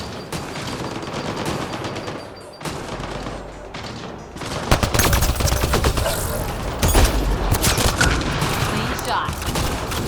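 Mass Effect: Andromeda combat: rapid, overlapping gunshots crackle in a dense firefight that grows louder and heavier partway through. Occasional heavier cracks stand out, with faint voices mixed in.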